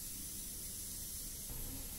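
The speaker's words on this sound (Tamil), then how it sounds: "ஆயில் வந்து ஒரு 4 ஸ்பூன் ஊற்றிக்கலாம்." Oil poured from a spoon into a pan on a lit stove while cooking radish sambar, heard as a steady, close, broadband hiss that runs unbroken throughout with no talking.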